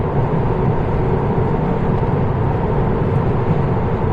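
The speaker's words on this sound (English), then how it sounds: "how much road and wind noise, and this is on a good surface" Steady, loud broadband rumble of tyres on a smooth, good-quality motorway mixed with wind rushing past a moving electric car, continuous and unbroken with no voices.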